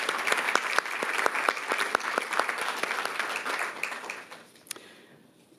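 An audience at a school district legislative meeting gives a round of applause, with brisk, loud clapping that gradually thins out and dies away over a few seconds.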